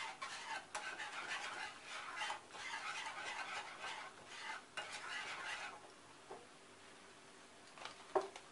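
Cauliflower stirred with a pinch of salt in a pan, soft scraping and rustling strokes for several seconds that fade to a quieter low sizzle, with a couple of small knocks near the end.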